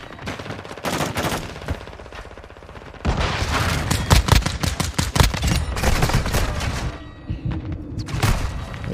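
Rapid P890 pistol shots ring out in a Call of Duty Modern Warfare II match, sharp cracks firing in quick bursts across the clip, loud and close, layered over game ambience.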